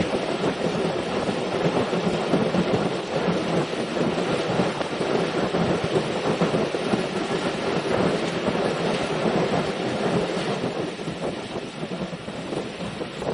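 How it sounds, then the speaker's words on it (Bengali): Train rumbling steadily across the Arial Khan (Shibchar) rail bridge over the Arial Khan river, a loud continuous roar with rhythmic wheel clatter heard from on board the special train. "আমরা এখন অতিক্রম করে যাব আরিয়াল খাঁ নদীর উপরে নির্মিত আরিয়াল খাঁ রেল সেতু কিংবা শিবচর রেল সেতু"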